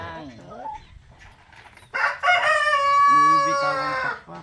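A rooster crows loudly nearby, a long drawn-out call, with softer clucking and faint talk around it beforehand.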